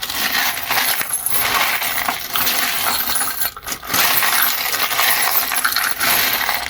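A deck of oracle cards is shuffled by hand, a close, continuous papery rustle and riffle with one brief pause midway.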